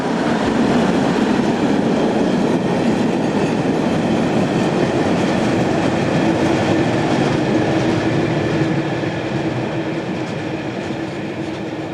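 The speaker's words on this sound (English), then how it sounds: "120012 comes off the single track section. The train is carrying 3 standard gauge cement wagons on the rear" Class DE120 diesel locomotive 120012 on a Swiss narrow gauge line hauls three standard gauge cement wagons past, a loud, steady rumble of engine and rolling wheels with faint rhythmic clatter, fading slightly toward the end.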